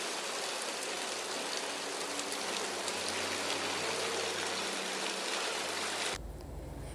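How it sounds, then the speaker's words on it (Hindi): Heavy morning rain pours down steadily, a dense, continuous hiss of drops on surfaces that stays loud and even for about six seconds before cutting abruptly to quieter background. "आज सुबह से जिस टाइम से हम लोग उठे हुए थे ना उस टाइम से आज यहाँ पे बारिश हो रही थी"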